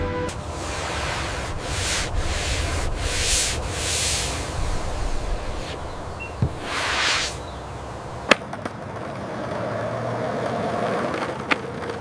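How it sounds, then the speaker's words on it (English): A machine sands the top and bottom faces of skateboard decks at once, giving a steady rough rubbing hiss with repeated swelling strokes, a few sharp knocks and ticks, and no talking. "Dual-sided sanding processing both top and bottom deck surfaces simultaneously."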